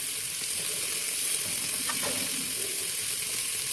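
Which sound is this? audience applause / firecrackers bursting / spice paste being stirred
spice paste being stirred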